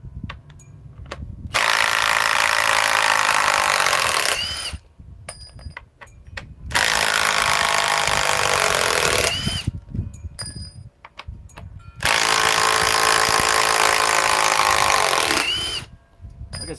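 A Milwaukee power tool, likely an impact wrench working a socket, runs in three long bursts of about three seconds each, loud and close, with short pauses and clicks between them and no talk.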